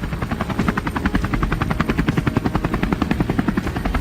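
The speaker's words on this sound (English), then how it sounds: "Board the helicopter and touch down on the vast plains below." A helicopter in flight carrying hunters over open plains, its rotor beating in a fast, even thump-thump that stays loud and close throughout.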